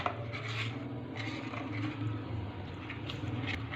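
Gram flour being stirred into a yogurt lassi in a bowl, giving soft repeated scraping and clinking of a utensil against the dish, faint and steady with a low background hum and no talk.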